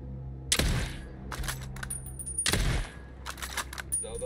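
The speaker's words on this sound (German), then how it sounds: "Sauberer Schuss, Ghost." Gunfire in the video game Ghost Recon Breakpoint: two loud, sharp shots about two seconds apart, with a few quieter cracks and clicks between and after them.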